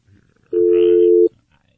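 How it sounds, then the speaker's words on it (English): A single steady telephone tone while a phone is being dialed, loud and close, lasting under a second and standing alone against faint background noise. "before I finish dialing"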